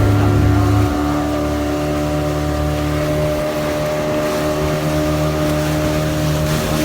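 A boat engine drones steadily and loudly as the boat moves against a strong river current, with rushing water and wind noise over a constant low mechanical hum.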